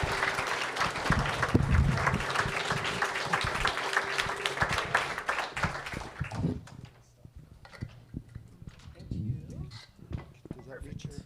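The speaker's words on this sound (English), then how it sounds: "Another round of applause for Jess T." Audience applauding for artist Jess T. Dugan at a faculty presentation, a dense, loud round of clapping for about six seconds that thins into scattered claps and murmuring talk.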